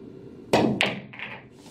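A pool cue strikes the cue ball for an off-centre banana shot on a pool table, giving a sharp close click followed by a second knock and a faint rolling tail.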